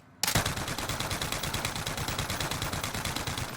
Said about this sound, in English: let's shoot the gun again and see how it sounds.